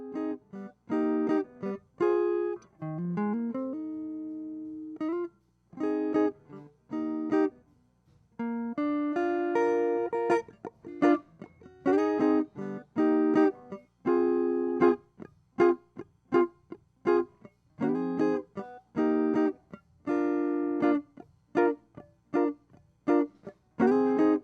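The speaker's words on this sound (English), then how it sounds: "The sound you're hearing is a Fender Stratocaster going directly into the amp and being recorded by a Royer" Fender Stratocaster electric guitar plays straight into a tube amp, recorded with a Royer R121 ribbon mic. A melodic line of plucked notes and short chords runs steadily for about twenty-five seconds, with no voices.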